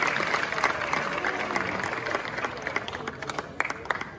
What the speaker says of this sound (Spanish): Felicitaciones, Samuel, un fuerte aplauso para ti